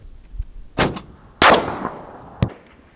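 Three sharp rifle shots from an SKS Yugo sporter fired at a 500-yard target outdoors, spaced unevenly over three seconds, each a loud crack with a brief echoing tail.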